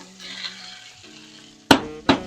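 Spice paste with chopped tomato fries in a pan for a soya chunk curry, a low steady sizzle broken by two loud, sharp stirring scrapes near the end.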